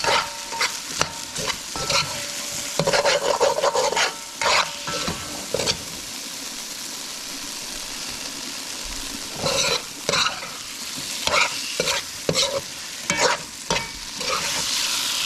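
Shrimp and potato curry sizzles and fries in oil in a pan while a utensil stirs it in bursts of scraping and clatter, with quieter spells of steady frying between the stirs.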